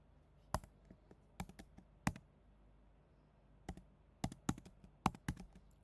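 Computer keyboard typing as country names are entered for spreadsheet dropdown lists: scattered clusters of crisp, close key clicks with pauses between bursts, fairly quiet and without talking.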